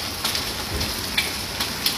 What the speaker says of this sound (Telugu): రాత్రి నుంచి అలాగే కూర్చున్నాను భారీ వర్షాలు కోవైట్లో.